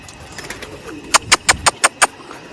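A series of six sharp, evenly spaced pigeon calls rings out close by over a faint background hum.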